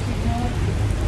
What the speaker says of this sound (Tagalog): Heavy ng ano, ulan.